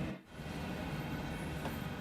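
A heavy freight train rolls on Sand Patch Grade in Train Sim World 2, part of the train running downhill while the rear still climbs, giving a steady, dense rumble of wheels and rail noise with no talk.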